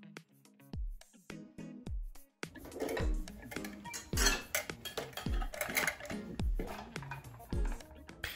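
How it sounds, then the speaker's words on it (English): A kitchen knife is pulled through a knife sharpener again and again, giving a run of sharp metallic strokes, some with low knocks, close up and fairly loud, with no speech. "You just put your knife through a couple of times"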